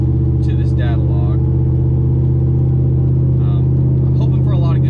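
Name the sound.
truck engine while driving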